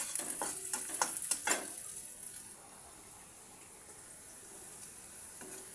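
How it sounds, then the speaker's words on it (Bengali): Cut garlic cloves go into hot oil with a loud burst of sizzling and stirring clatter that settles into a quieter, steady fry after a couple of seconds. "এই রসুনগুলো এখন তেলের ভিতরে দিয়ে দেবো। রসুনটাও ভাজা ভাজা হবে।"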